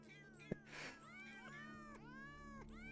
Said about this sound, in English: Okay, time to hit these cats.